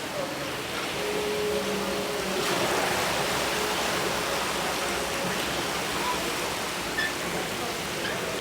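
Water flowing into an old stepped well in Satara, a steady broadband rush of pouring water with a faint voice briefly underneath.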